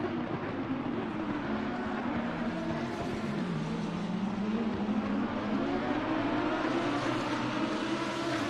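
A race car at Monza entering the pits, a steady engine drone holding at a fairly constant pitch throughout, moderately loud with no clear pass-by.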